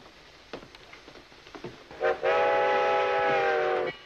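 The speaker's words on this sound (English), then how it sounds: "Always is when the train comes in." A train arriving at a station, with a few clanks and rumbles before a loud, sustained whistle blast that holds steady for nearly two seconds and then cuts off.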